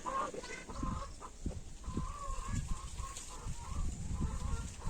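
Chickens on a Kenyan countryside farm clucking repeatedly in short irregular bursts, fairly close, with a rooster-like call mixed in and faint outdoor background.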